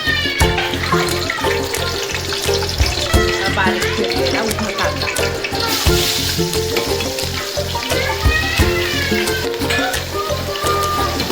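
Food frying and sizzling in hot oil in a home kitchen while paneer biryani is prepared, a steady close crackle with stirring clatter running throughout.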